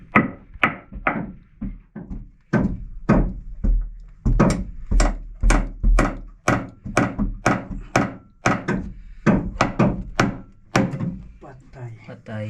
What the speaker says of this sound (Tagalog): Ligon mga kabisig dito ay matigas na kahoy. Yan ang hirap pakuan.